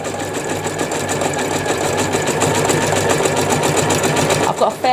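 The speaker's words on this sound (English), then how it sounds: "I'm just going to zigzag stitch over the top of the ribbons" A sewing machine runs steadily through a fairly open zigzag stitch over ribbons laid on fabric, giving a continuous close mechanical whir with fast even needle chatter that stops briefly near the end.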